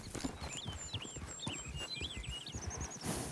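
Horses walking in the video game Red Dead Redemption 2, their hooves clip-clopping in a steady, moderately close rhythm throughout, with chirping birdsong layered above.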